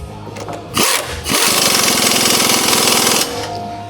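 A power impact tool spins off a sway bar end link bolt on a 2021 GMC Sierra 1500, a short burst followed by a loud, sustained rattling hammer of about two seconds, close up.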